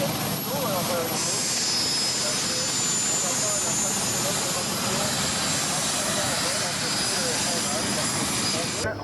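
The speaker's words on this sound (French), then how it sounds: "L'Extra a un moteur de 300 chevaux." A 300-horsepower Extra aerobatic airplane during a flight display at an air base meeting in Cambrai, 1993, its engine a continuous loud droning roar that persists steadily, with a voice talking over it.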